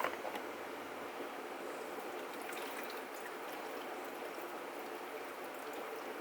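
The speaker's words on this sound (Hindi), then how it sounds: "ठंडा पानी डाल दें आप अंदाज़े से" Cold water poured into a grinder jar for plum juice, a quiet continuous splashing trickle held steady for several seconds, alone.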